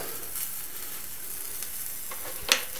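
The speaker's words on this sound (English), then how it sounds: "You can still hear it sizzle." Steady sizzling hiss of a hot metal weight-lifting bar piece, continuous and fairly quiet, with a sharp crackle near the end.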